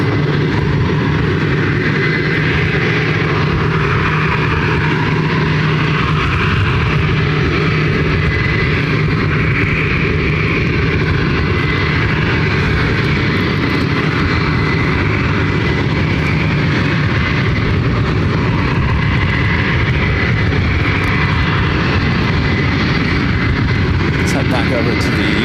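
An American Airlines jet heading out toward Phoenix at Ontario airport, a steady distant engine rumble running throughout beneath continuous talk.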